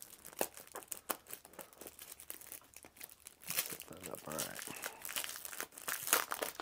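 Plastic packaging crinkles and rustles as a small white box, itself packed inside a larger box, is unwrapped, with close, busy crackling and occasional tearing sounds throughout.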